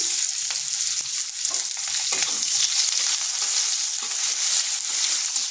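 Lengthwise-sliced onion fries in a pan with a dried chili and a bay leaf, giving a continuous hissing sizzle with occasional soft stirring scrapes, close and alone.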